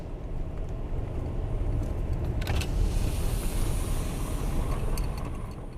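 A car driving along an unnamed rural road in Arizona, heard from inside as a steady low rumble of engine and tires with faint rattles and clicks, loud and continuous, with no talk.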